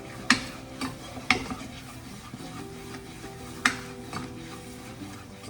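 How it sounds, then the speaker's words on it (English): A spoon scraping and knocking in a pot as choux dough for cream puffs is stirred over heat until it forms a ball, with rhythmic sharp taps spaced a second or so apart over soft sizzling. "you're just gonna have to watch me stir this until it forms a ball"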